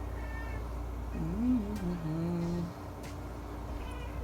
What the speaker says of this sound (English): that's my cat, Princess.